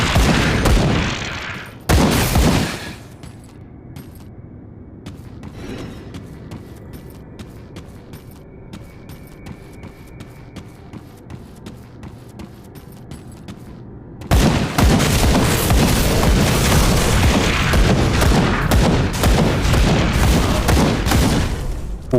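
Explosions in the action RPG Grim Dawn, loud rapid bursts of booming, crackling blasts at the start, a quieter low rumbling stretch, then a sustained dense barrage of detonations like heavy gunfire.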